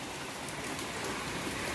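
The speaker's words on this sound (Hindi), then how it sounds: "बाहर से उल्टी बारिश आई तो सारा पानी आ गया बाहर से अंदर।" Rain pours steadily outside, making a dense, even hiss of falling drops that is moderately loud and continuous for the whole moment, with no voices.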